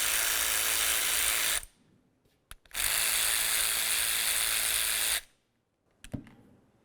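A ratchet with a 14mm socket spins out caliper slider bolts on a 2002-2006 Honda CR-V, giving two sustained rapid clicking runs up close, separated by a pause and a few metallic clinks.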